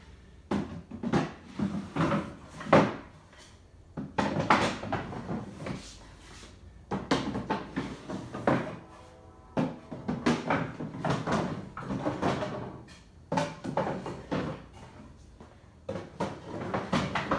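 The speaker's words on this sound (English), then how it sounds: "Put them in my handy drawer." A wooden drawer in an antique piece of furniture under restoration, knocked and slid repeatedly with irregular bursts of clattering wooden bumps, moderately close, with no one talking.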